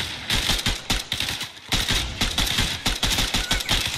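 Rapid bursts of automatic gunfire in a multiplayer shooter video game, dense repeated volleys firing steadily for several seconds, loud and close with brief gaps between bursts.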